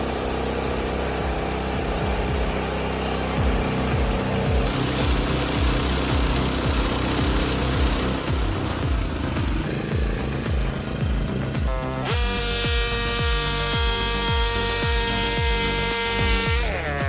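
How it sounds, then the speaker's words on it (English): An HM130 Max sawmill driven by a 14-horsepower engine runs loudly and without a break while milling large logs, the motor drone changing pitch under load and then settling into a steady whine toward the end. "HM130 Max is built for serious milling, effortlessly slicing through large logs with its 14-horsepower engine."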